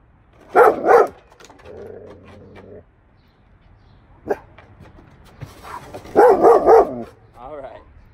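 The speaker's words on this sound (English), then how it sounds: "Neighbor's dogs are out" Neighbor's dogs barking outside during a German Shepherd training session, giving a couple of loud bark bursts, then another cluster of barks and yips later, with someone talking in between.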